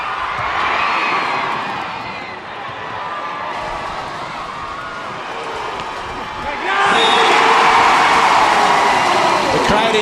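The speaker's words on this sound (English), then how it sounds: "The crowd enjoying that." A beach volleyball crowd at the 2017 Rio 4-Star World Tour match between Brazil and Poland roars and applauds, surging louder toward the end, while a commentator talks over it.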